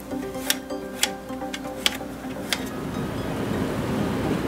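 Large 140 mm fans in an older desktop computer run with a steady, deep, low hum, joined by a few sharp clicks or creaks early on before the whir settles into an even, moderate drone.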